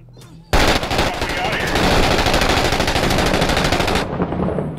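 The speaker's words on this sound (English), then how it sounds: "they're shooting" Sustained machine-gun fire from the video game Six Days in Fallujah, a loud close burst of rapid rattling shots lasting several seconds before cutting off.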